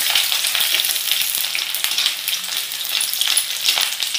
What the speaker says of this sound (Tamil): ஆயிலில் வந்து நான் இஞ்சியும் பூண்டியும் சேர்த்துக்கிறேன்.